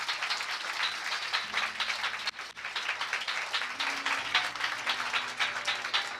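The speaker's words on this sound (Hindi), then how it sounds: "जोर से ताली बजाएंगे।" A church congregation claps loudly and steadily through a worship session, the dense applause continuing for several seconds with a brief dip midway.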